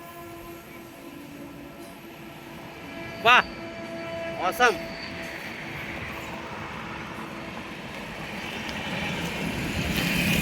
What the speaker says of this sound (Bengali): এ কোন ট্রেন যাচ্ছে রে? পুরুষোত্তম তো।